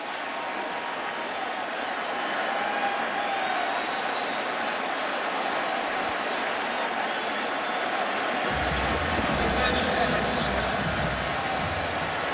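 Stadium crowd at a 2011 West Virginia at Syracuse college football game roaring after a touchdown, a dense sustained wash of cheering and clapping that builds slightly toward the end, with commentary running under it.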